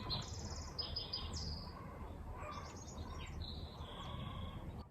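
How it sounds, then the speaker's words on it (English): Several birds sing in the spring countryside, with clear repeated whistled phrases and trills carrying over a steady low ambient hum, fairly close and continuous. "Listen to all the birds!"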